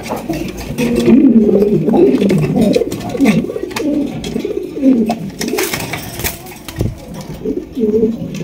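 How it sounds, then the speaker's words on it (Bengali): Fancy pigeons coo in a steady, overlapping chorus at close range, low throaty calls repeating throughout with faint background noise. "এখানে কিন্তু রয়েছে চমৎকার বিগ সাইজে একটা শৌকিং কবুতর।"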